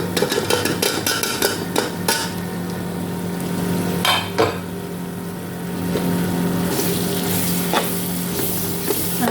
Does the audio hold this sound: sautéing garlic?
yes